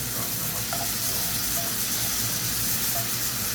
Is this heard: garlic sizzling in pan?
yes